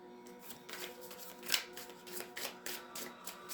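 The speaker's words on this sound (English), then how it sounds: "We'll get some good shuffles in" Soft, quiet riffling and flicking of tarot cards being shuffled in short bursts, close up, with a low hum in the background.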